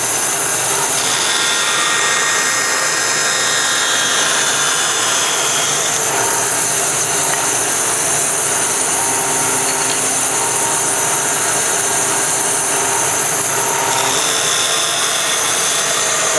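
A bandsaw cuts through wood with a loud, steady motor whine and a rasping cut that holds a constant level for the whole stretch, no one speaking.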